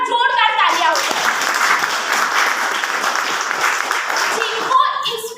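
An audience in a hotel hall applauds a company founder at a product presentation, with loud, dense, sustained clapping for several seconds that swells and then fades. Voices can be heard faintly at the start and the end.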